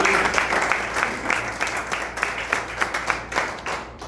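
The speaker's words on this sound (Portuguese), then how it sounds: "peço uma salva de palmas" A gathering at a neighborhood association's electoral congress breaks into a short round of clapping, dense and lively with a pulsing rhythm, fading slightly toward the end.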